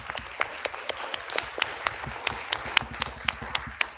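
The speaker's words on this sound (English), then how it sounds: "If we can give J.J. Harris a round of applause." Light applause from a small audience at a county school board meeting honoring a school's staff: scattered, fairly quiet claps with a few sharper distinct smacks standing out at a steady pace.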